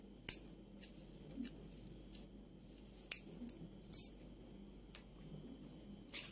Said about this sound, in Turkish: Ve kesiyorum.